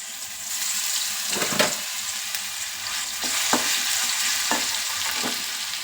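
Ginger garlic paste sizzles and spits in hot oil in a pan while it is stirred, a continuous loud frying hiss broken by a few sharp scrapes and splutters.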